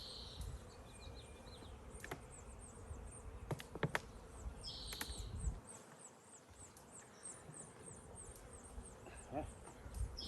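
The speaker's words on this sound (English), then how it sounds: "Wow, so many bees. There are more bees in the hive." Honeybees buzzing at an open beehive during an inspection, a steady quiet drone of many insects with brief clicks and taps, and people talking softly nearby.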